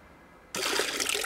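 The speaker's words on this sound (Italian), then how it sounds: "Ogni volta che usi lo scarico del tuo water, consumi 10 litri d'acqua." A toilet flush, a sudden loud rush of running water that starts abruptly after a quiet moment and continues strongly, close by in a bathroom.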